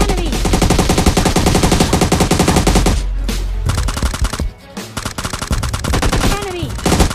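Loud, rapid automatic gunfire in a video game, with long bursts of shots from an enemy player, brief pauses and renewed firing, close and dominant throughout.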